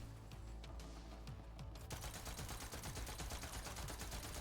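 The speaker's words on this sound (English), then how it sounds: "Stop shooting at me" Rapid automatic gunfire in the Borderlands 3 video game, a dense continuous stream of shots starting abruptly near two seconds and running loud to the end, with lighter scattered shots before it and no talking.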